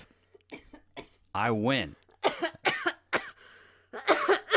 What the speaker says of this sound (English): I told you to quit all that coughing and crap.